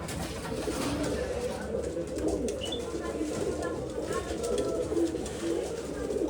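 Pigeons coo softly and repeatedly at close range in a coop at a pigeon sale in Bangalore, a continuous low burbling under someone speaking.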